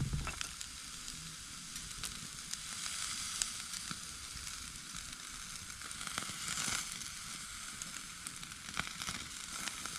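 A chilli steak sizzles over a wood fire in a Bushbox XL stove outdoors in the woods, a steady close hiss of frying fat broken by sharp crackles and pops, with no voices.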